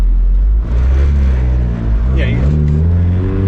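A K24-swapped Mazda MX-5 Miata engine pulls under light throttle with a steady, close-up drone from inside the car, while a person talks briefly over it.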